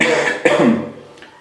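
A person coughs up close, a couple of harsh, throaty bursts that trail off into quiet.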